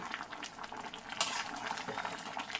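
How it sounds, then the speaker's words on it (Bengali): Masoor dal with egg and potol stirred in a pan after kasuri methi is added, a faint bubbling simmer with soft stirring scrapes and one sharp clink, quiet and close, no voices. "আবার একটু নাড়াচাড়া করে নিচ্ছি"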